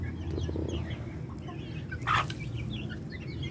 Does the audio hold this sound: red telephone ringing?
no